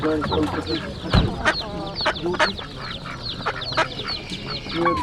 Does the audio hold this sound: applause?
no